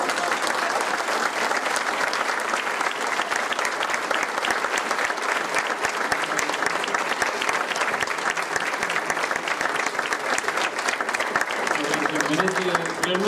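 Audience applause for a chef after a talk on Egyptian influence in Mexican cooking, steady dense clapping that keeps going throughout, with a voice briefly heard near the end.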